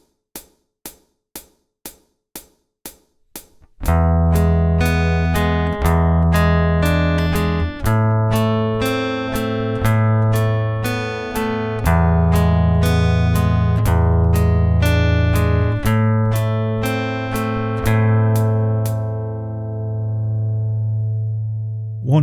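Fingerstyle acoustic guitar piece played slowly, opening with a few evenly spaced clicks counting in, then plucked notes over a sustained bass, close and clean with each note ringing out.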